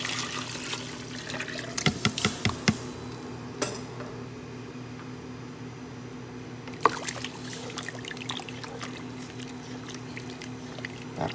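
Water is poured into a cooking pot holding chicken cubes, with sloshing and splashing alongside clinks of the pot and utensils, near and moderately loud.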